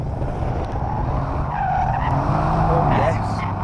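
Tires of a Mercedes-AMG C63 S squeal and skid in a long drift on a track, a continuous scrubbing screech over engine roar, with a voice speaking over it.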